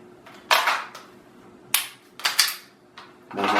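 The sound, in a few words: handgun fired at full speed after drawing from holster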